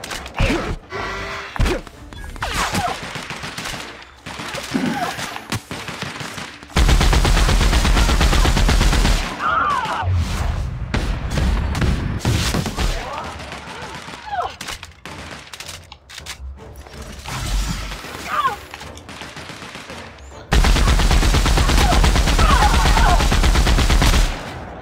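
Loud bursts of rapid automatic gunfire from The Outer Worlds alternate with stretches of scattered single shots and thuds, the heavy volleys returning near the end, with brief talk in between.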